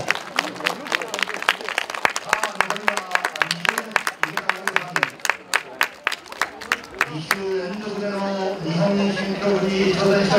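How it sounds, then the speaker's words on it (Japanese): A stadium audience claps in steady rhythm during a 5000 m track race, loud even beats for several seconds before breaking into a continuous roar of applause and cheering, with an announcer talking over it. "さあ、皆さんの応援拍手で日本記録誕生にお願いします。"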